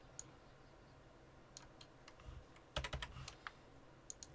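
Computer keyboard keys are tapped while entering a value in CAD software, producing faint, sparse clicks that bunch into a short burst of typing near the middle, quiet and close with no speech.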